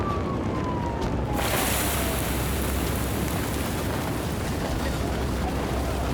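Water jet sprays onto a burning toy house in a Playmobil firefighter scene: a steady, loud, broad hiss of spraying water that begins after a faint opening second and continues without a break.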